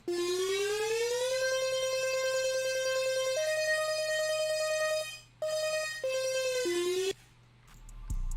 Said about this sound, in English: I added a lead, which basically just has a very long glide to it